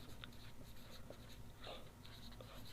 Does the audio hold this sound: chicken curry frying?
no